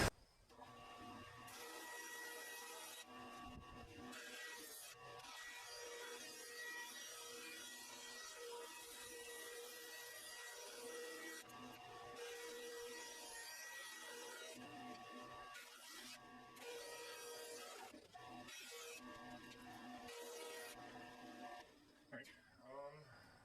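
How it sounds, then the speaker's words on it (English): A bandsaw cuts through wood for an electric guitar body, a steady loud whine with dense broadband noise that dips briefly several times as the blade moves through the cut, running continuously for over twenty seconds. "without further ado, I guess on to bandsaw here"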